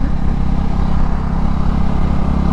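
A loud, rough KTM 390 motorcycle engine with its exhaust removed idling close by, a constant throbbing rumble with a raw, unmuffled exhaust tone.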